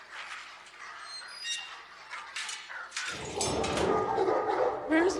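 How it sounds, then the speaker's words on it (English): Dogs bark in a dark fantasy television scene, with rough, repeated barks and yips building loudly in the second half over a low rumble, alongside a faint voice. "He's taking her to the dogs."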